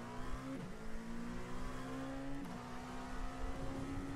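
A Dallara LMP2 race car in the iRacing sim idles and rolls slowly out of the pits, a steady low engine drone with faint shifts in pitch, heard alone and fairly quiet.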